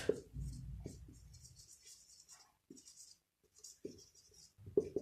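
A pen writing numbers by hand on paper while solving a fourth-grade math problem, with faint scratchy strokes in short bursts separated by pauses, close and quiet.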